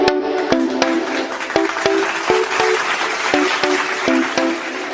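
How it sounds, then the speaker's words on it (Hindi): Audience at an Indo-Nepal border dance competition show clapping for the three judges, a continuous wash of applause mixed with a rhythmic musical melody and beats. "एकपटक तीनजना जजको नाममा जोरदार ताली।"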